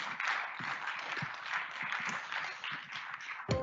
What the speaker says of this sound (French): Je vous propose d'applaudir Maxime Vincent et Ronan Bollet.